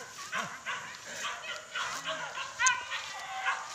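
A dog yips, barks and whimpers in short, repeated bursts at moderate distance, with people talking throughout and faint outdoor noise underneath.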